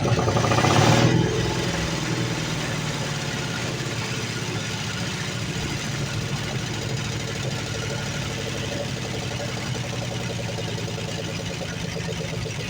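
1982 Dodge Ramcharger engine with a clogged carburetor running rough, a loud throaty rev at the start that drops into a steady, uneven, knocking idle.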